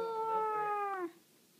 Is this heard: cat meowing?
yes